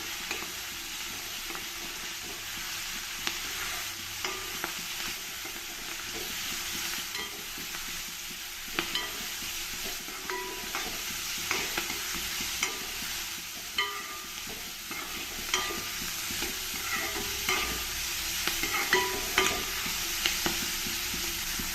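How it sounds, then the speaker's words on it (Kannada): Washed whole fenugreek leaves stirred into a frying pan for a rice dish, a long low sizzle with steady rhythmic scraping and tapping of a spatula, close and unbroken, and no voices. "ಚೆನ್ನಾಗಿ ತೊಳೆದಿರೋ ಅಂತಹ ಮೆಂತ್ಯ ಸೊಪ್ಪು ಸೇರಿಸ್ತಾ ಇದ್ದೀನಿ ಅದನ್ನು ಸ್ವಲ್ಪ ಚೆನ್ನಾಗಿ ಮಿಕ್ಸ್ ಮಾಡ್ಕೊಳ್ಳೋಣ"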